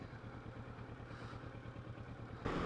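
Kawasaki Versys 650 motorcycle engine running steadily with a low, even rumble throughout, swelling louder in the last moments as the bike pulls away.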